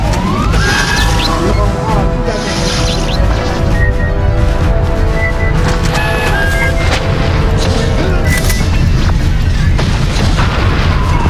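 Grenade launcher blasts boom repeatedly in the Aliens versus Predator Classic multiplayer game, loud dense explosions and crashes overlapping continuously with gunfire-like clatter, and a person talks faintly underneath.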